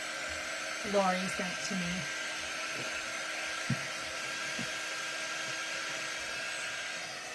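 A hair dryer blows steadily to dry the edges of a napkin art journal page, a constant close airy whir that runs the whole time, with a brief voice speaking near the start.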